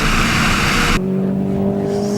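A race car at Winton Raceway in an EvolutionOz.net Nationals Top 10 Shootout powers out of a turn, its loud engine roaring close by for about a second, then fading to a steadier, more distant drone.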